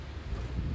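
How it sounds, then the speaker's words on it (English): Wind blowing outdoors in a garden, a steady low rumble and buffeting across the microphone with no one speaking. "it's a little windy out here."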